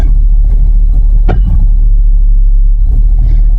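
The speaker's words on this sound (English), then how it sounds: "let's put it in 4-wheel drive. Get all the traction we can get." Loud, low engine rumble from a four-wheel drive vehicle close by, engaged in four-wheel drive, steady throughout with a brief rising surge partway through.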